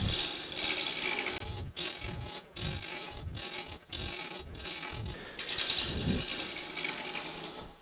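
Treadle lathe turning seasoned ash wood, with a rhythmic mechanical clatter and ratcheting from the treadle drive interrupted by brief pauses, moderately loud and close, no talking.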